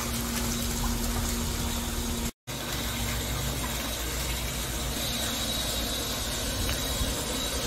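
Water pumped in to refill a tilapia tank, a steady, loud rushing and gushing flow with a constant hum that continues almost without pause.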